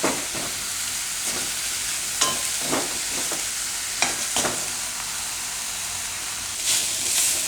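A bajra flour tikki mixture cooks in a pan over raised gas heat, giving a steady soft sizzle and hiss punctuated by occasional scrapes and taps of stirring.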